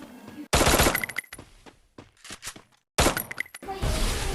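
Gunfire in the Free Fire video game: loud bursts of rapid automatic shots in two main volleys with shorter scattered shots between, close and punchy, ending in a sustained noisy burst.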